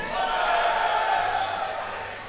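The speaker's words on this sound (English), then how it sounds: "Crowd getting hype in the back for the reset." A crowd at a fighting game tournament, an Injustice: Gods Among Us top 8 at CEO2014 in Florida, cheers and hypes up with a steady, loud roar of mixed voices.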